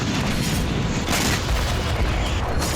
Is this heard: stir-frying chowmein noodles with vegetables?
no